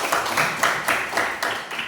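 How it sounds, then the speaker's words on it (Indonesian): A class of schoolchildren clapping hands together in a quick, rhythmic series of bursts, close and fairly loud, with no talking over it. "Tepuk tangan semuanya"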